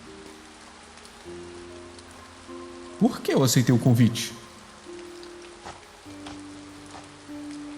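Steady rain falls in the video game Impostor Factory, a soft continuous hiss through the whole scene, with a voice talking over it and a brief louder burst of sound partway through.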